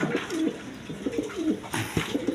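Domestic pigeons brooding a clutch of two eggs give repeated soft, low cooing calls, several rolling coos close by with faint rustling in a quiet loft.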